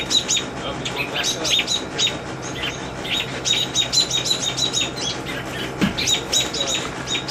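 A baby bird under attack from a snake chirps in fast, steady, high tweets that carry on without a break, with faint outdoor background noise beneath.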